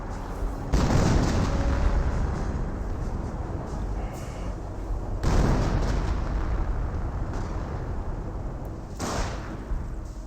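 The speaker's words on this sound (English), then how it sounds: "Hummel barrage in this region, trying to hit that tree off center" Hummel artillery barrage in Company of Heroes, three heavy shell explosions landing a few seconds apart, each a loud broadband boom that decays into a long rumbling roar.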